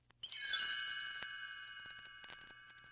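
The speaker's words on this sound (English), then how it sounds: "You will know it is time to turn the page when you hear the chimes ring like this." A chime rings once as a page-turn signal for a read-along book. It is a bright, clear metallic strike with several ringing overtones that decay slowly over about two seconds in otherwise quiet surroundings.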